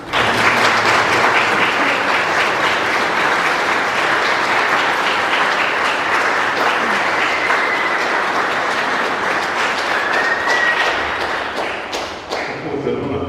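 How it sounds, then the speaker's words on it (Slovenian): A church congregation at a couples' wedding-anniversary celebration in Rovte applauds together, a dense, steady wave of clapping lasting about twelve seconds before tapering off near the end. "naj bo en pozdrav iz občestva z enim aplavzem"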